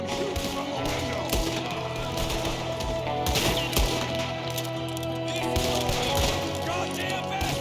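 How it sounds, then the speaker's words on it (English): Gunfire in a shootout in the video game Red Dead Redemption 2, with repeated sharp shots cracking out irregularly over a dense, continuous din of battle. "There's another one shooting from the window."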